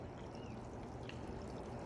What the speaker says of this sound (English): I got this hose. I'm running water down